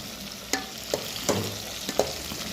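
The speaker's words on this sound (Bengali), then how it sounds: "এখন হলুদ মরিচ কষাইতে আছি" Turmeric and chili powder sautéed with tomato in a pan for a hilsa fish curry with cucumber, giving a steady low sizzle broken by a few sharp stirring scrapes at irregular intervals.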